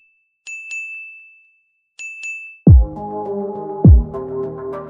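Notification bell sound effect: two bright double dings ring out, then deep throbbing pulses follow, loud and clean with no talk.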